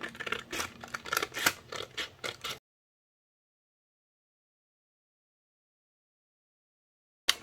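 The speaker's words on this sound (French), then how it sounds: "je découpe là, je vais faire au ciseau" Scissors snip through a sheet of craft foam in a quick run of close, crisp cuts, then silence, with one brief snip right at the end.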